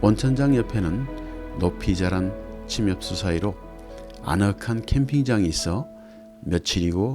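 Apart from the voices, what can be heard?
No everyday noise stands out behind the speech.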